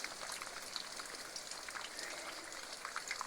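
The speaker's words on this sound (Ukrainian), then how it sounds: "І пішов дощик." Light summer rain falls outdoors, a soft, faint patter of scattered drops continuing evenly throughout.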